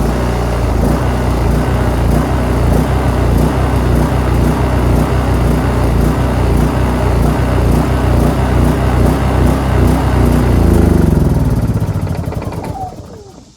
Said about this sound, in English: It's been running for about 5 minutes on the gas that's in the carburetor. It's about to die now.